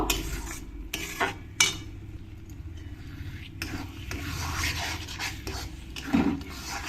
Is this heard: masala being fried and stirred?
yes